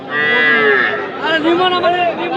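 Cattle at a livestock market where young bulls and heifers are sold give a loud, drawn-out moo followed by a second wavering call, close and clear with no talk over it.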